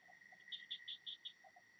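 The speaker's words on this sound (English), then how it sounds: "that's the crickets and the frogs outside" Crickets and frogs chirp outdoors, heard faintly through open windows: a steady high cricket trill with a quick run of five pulsed chirps and a few lower croaks, distant and quiet.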